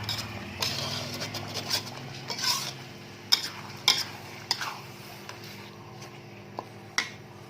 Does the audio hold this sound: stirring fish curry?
yes